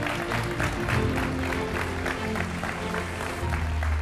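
A music competition audience at International Music Star applauds for a singer, a steady round of clapping over loud low stage music.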